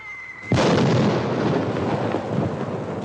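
A heavy cannon blast in the hills, booming like thunder: after a quiet start one sudden loud crack swells into a long rolling rumble that carries on to the end.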